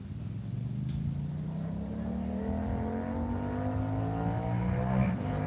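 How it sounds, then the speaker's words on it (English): A hot rod car engine revving in the distance from a park near a bridge, a steady droning roar with rising pitch as it accelerates, moderately faint and continuous, no talking. "you can hear that hot rod way over there"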